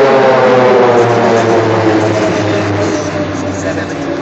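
Pilatus PC-7 propeller aircraft flying formation aerobatics at an air show, a loud steady droning engine roar that fades slightly toward the end, with a voice talking over it.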